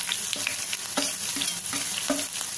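A tempering of cumin, green chili, curry leaves and hing sizzles in a pan, with a steady hiss broken by regular clinks and scrapes as a spoon stirs.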